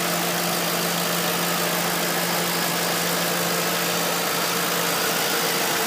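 A 2009 Ford Crown Victoria Police Interceptor with its 4.6 V8 idles steadily with a low, even hum and faint vibration, recorded close with no voices.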